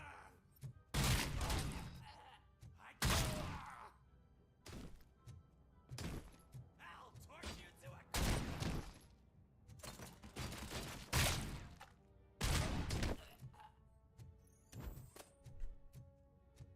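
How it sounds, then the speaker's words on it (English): Gunfire from criminals in the video game RoboCop: Rogue City, loud bursts of shots and heavy impacts in repeated clusters separated by short pauses, near and punchy. "Why do some of these criminals just shoot?"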